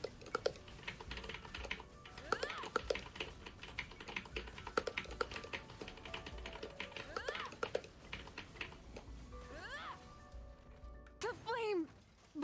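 Rapid computer keyboard and mouse clicks tap out a Genshin Impact combo, quick irregular bursts close up, layered with in-game attack and effect sounds.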